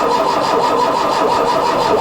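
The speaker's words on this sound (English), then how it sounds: "I'll pull the choke and see if she's going to fire." A 1.1-litre Ford Fiesta Mk1 Ghia barn find with its choke pulled, its engine cranking and catching, giving a loud, steady, rough mechanical churn close by throughout, with no voices.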